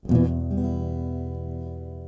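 A single strummed acoustic guitar chord rings out close by, its rigidly hit low 6th and 5th strings dominating in an uneven downstrum before the sound slowly decays.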